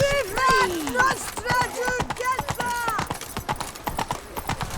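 A horse's hooves clop along in The Witcher 3 while a rider travels, with a quick rhythmic beat under male speech near the start and a rhythm that continues at a lower level afterward.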